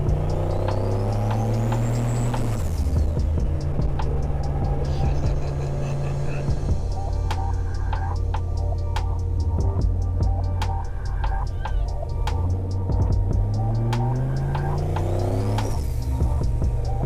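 An LS-swapped turbocharged Ford Ranger drives at light throttle, its engine droning steadily and loud inside the cab with rising and falling tones, turbo whistles and mechanical ticks, while people talk over it.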